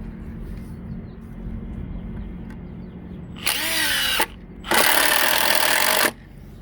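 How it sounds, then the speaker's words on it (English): Power drill driving a screw into a wooden boat outdrive stand, two close, loud whirring bursts, the first with a rising pitch and the second longer and steady, over a constant low hum. "And we're going to run this screw in right here."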